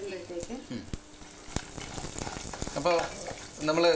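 Groundnuts, mustard seeds, chana dal and urad dal fry in sesame oil, giving a steady close sizzle with crackling and popping bursts, occasional clinks of a stirring spoon, and the sizzle growing louder toward the end.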